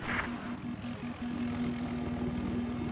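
An attack helicopter in Battlefield 4 drones with a steady rotor and engine hum, close and continuous, a low tone holding throughout without speech.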